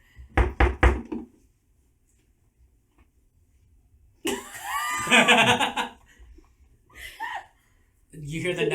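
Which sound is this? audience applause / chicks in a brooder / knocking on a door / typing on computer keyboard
knocking on a door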